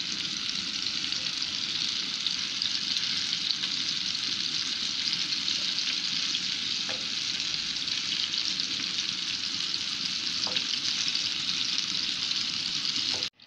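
Kofta meatballs frying in a pan with oil, a steady loud sizzle running throughout as they are turned over one by one, with a couple of faint clinks of the utensil against the pan.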